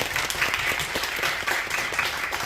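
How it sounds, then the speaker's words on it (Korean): Seminar attendees at a church lecture on covenant theology give another warm round of applause, brisk continuous clapping from a roomful of people lasting a few seconds, close and fairly loud. "네, 다시 한번 뜨겁게 박수로."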